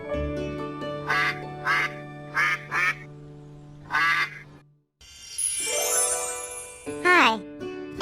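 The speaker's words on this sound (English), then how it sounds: "D-U-C-K, duck." Cartoon-style duck quacks from a children's farm-animal lesson: several short nasal quacks in pairs over a sustained musical tone, then a brief pause and a brighter jingly flourish.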